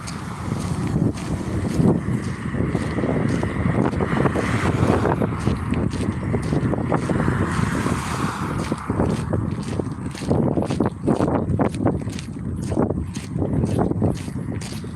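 Outdoor wind blows steadily across the microphone while someone walks in hot weather, a continuous low rumbling roar with occasional scuffing and faint thumps of footsteps.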